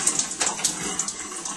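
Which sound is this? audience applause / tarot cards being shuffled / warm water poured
warm water poured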